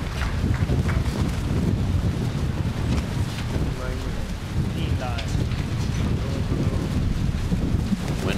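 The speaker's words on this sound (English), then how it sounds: "Wind picking up here in the booth." Heavy wind buffeting a microphone in a commentary booth at an outdoor compound archery World Cup in Salt Lake City, a steady loud rumbling roar with no talk.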